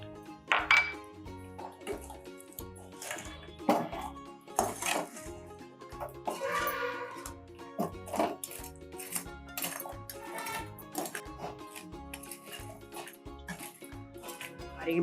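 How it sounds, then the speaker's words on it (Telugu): Fried dry fruits added to a metal pan of double ka meetha, with steady clinks, taps and scrapes of a spoon against the pan and light rattles as the pieces drop in, all close and clear. "ఇందాక వేయించి పెట్టుకున్న డ్రై ఫ్రూట్స్."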